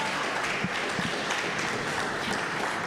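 A crowd of parents and students applauds in a university hall on a parents' night, a dense, steady wash of clapping that holds evenly for about three seconds with no voices over it.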